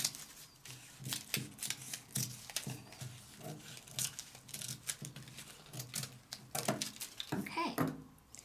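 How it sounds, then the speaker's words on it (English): Scissors cut across the fold of a sheet of paper in a series of crisp, rhythmic snips and rustles, close by and moderately quiet. "I'm going to start with the second piece, and I'm going to cut across"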